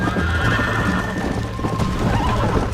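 In Red Dead Redemption, a tired horse gives a loud whinny while its hooves clip-clop steadily beneath, set against constant in-game ambience and with no voices.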